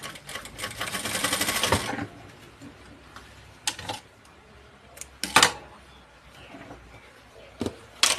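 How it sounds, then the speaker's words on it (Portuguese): A sewing machine stitches a short securing seam on a fabric strap, giving a quick rattling burst of stitching followed by scattered clicks and short mechanical taps from handling and adjustments. "a gente vai passar uma costurinha aqui de segurança só pra prender"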